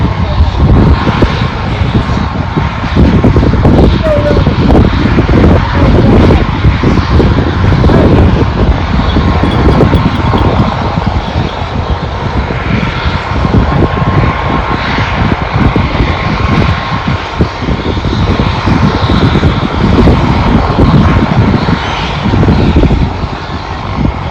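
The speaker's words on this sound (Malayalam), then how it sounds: "ഹെലികോപ്റ്റർ വന്നിട്ടുണ്ട്" Loud, continuous helicopter roar with heavy low rumble and rotor throbbing, close by and unbroken throughout, on a high-altitude trek near Tilicho Lake, Nepal.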